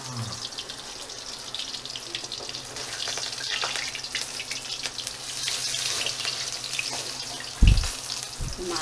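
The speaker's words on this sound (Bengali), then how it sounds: "মাছ ভাজার মতন পটর পটর করছে।" Pumpkin flower fritters frying in hot oil make a continuous close crackling hiss, with a brief dull knock near the end. No voices are heard.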